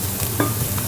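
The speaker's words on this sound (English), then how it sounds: "You should listen for the sizzle." Red onion sizzling and frying in a pan, a steady crackling hiss with a brief stir or scrape in the middle, close and alone.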